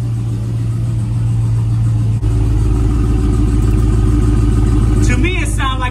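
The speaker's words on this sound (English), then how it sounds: "Look at that beautiful engine, man. Brand new." A brand-new 392 Hemi V8 in a Dodge Scat Pack idles with a deep, steady rumble that swells slightly partway through, and a short voice-like burst comes in near the end.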